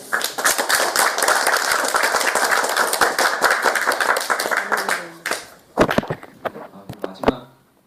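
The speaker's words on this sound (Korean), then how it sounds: "다시 한번 크게 박수 한번" Church congregation clapping after a Korean sermon testimony, a dense burst of many hands that gradually thins into a few scattered claps with faint voices, then fades out.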